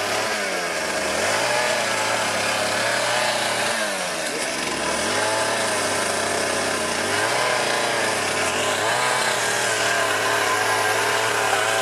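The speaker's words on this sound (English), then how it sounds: "Obviously, we don't want to stay away from a chainsaw." A chainsaw trims a rhino horn during an outdoor dehorning, its engine running loud and close throughout with a steady snarl that bogs and revs repeatedly as the cut proceeds.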